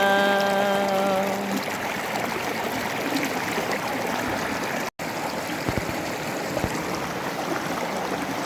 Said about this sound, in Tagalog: Nandito naman tayo sa may ilog.